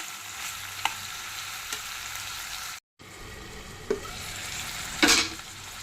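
Upma dosa mixture with grated ginger cooks in a pan, a low steady sizzle with occasional stirring scrapes, a brief break in the sound midway, and a louder scraping stir near the end.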